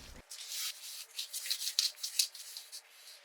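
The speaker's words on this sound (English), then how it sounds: "I brushed the stain on and wiped it down with a cloth to let that pretty wood grain show through" A cloth wipes wood stain across a wooden frame in a series of short, soft rubbing strokes that rise and fall, close and fairly quiet, with no speech.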